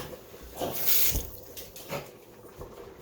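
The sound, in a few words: liquid with oils being poured into a pan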